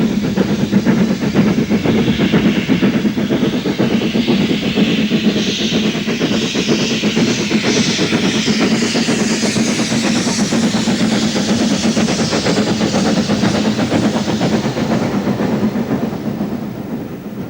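An LMS steam locomotive works along a British Rail main line, giving a loud, continuous rolling roar with rapid clickety-clack from the wheels and a hiss that swells midway, all without a break.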